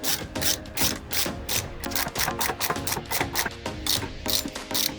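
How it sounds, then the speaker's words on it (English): A ratchet and spanner winding a nut onto a wheel bearing press tool on a Toyota, rapid rhythmic clicking in repeated strokes close to the microphone, no talking. "place the spanner and ratchet into position and wind it in properly"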